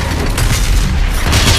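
Shotgun blasts and heavy combat in Doom Eternal (The Ancient Gods – Part 1) boom continuously, a loud, dense wall of deep impacts and bursts with no clear gaps.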